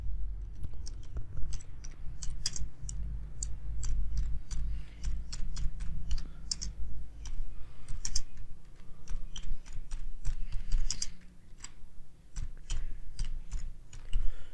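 A computer keyboard clicks steadily through rapid bursts of keystrokes as text is typed into PowerPoint 2019. The keys are close and crisp, pause briefly now and then over a low hum, and no one speaks.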